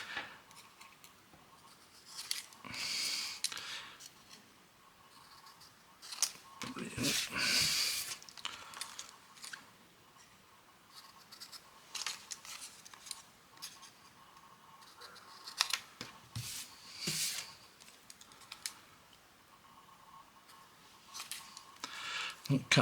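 Scissors snip and trim paper for a craft project in short, quiet bursts of cutting separated by pauses, with faint handling noise and occasional talk.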